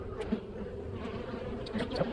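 Honeybees buzz in a dense, steady drone around an opened hive during a February inspection, with a few louder passes as individual bees fly close.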